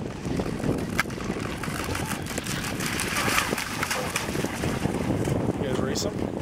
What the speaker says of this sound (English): This is a little mini outrigger.